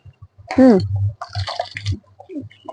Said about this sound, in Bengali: এবার চলো ভালো করে শাকগুলোকে ধুবো।